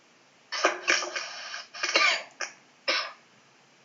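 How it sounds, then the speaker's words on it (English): A man coughs close to the microphone during live cricket commentary, a cluster of rough, throaty bursts followed by two more separate coughs. "sorry, just had a bit of a cough there."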